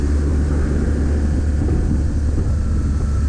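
A car engine revving hard in second gear while climbing a hill at about 30 mph, a steady loud drone with rumbling low end and wind roar throughout, no talking.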